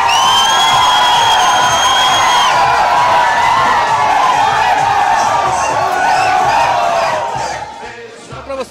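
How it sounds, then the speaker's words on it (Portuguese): Palmeiras supporters celebrate their 2016 Brazilian championship title at a snack bar in Buritis, a dense, loud crowd roar with horn-like tones and whoops that holds steady, then fades out at the end. "essa torcida aqui é a torcida que se organizou, se preparou para comemorar o título do Palmeiras"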